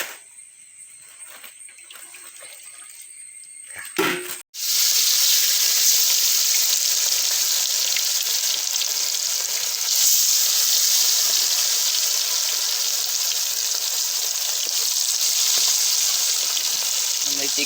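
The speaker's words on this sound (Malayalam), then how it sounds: "ഇതിനകത്താണ് ചിക്കൻ വറുക്കുന്നത്" Chicken fries in hot oil in a pan, a loud, steady sizzling hiss that bursts in abruptly after a brief quieter moment and holds evenly to the end.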